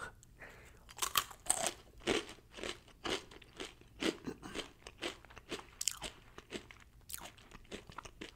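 Blue Heat Takis rolled tortilla chips are crunched up close in a steady series of crisp bites and chews, roughly one per second for eight seconds, with no talking.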